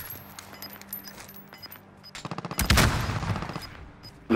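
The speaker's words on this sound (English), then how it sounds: "I guess there's somebody on the top, because they're shooting on top of us" Video game gunfire coming from above: faint distant shots at first, then a rapid close burst of automatic fire that builds into a loud dense volley near the end.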